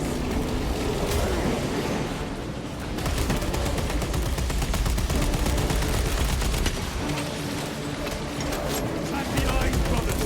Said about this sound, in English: I'm shooting the eyes.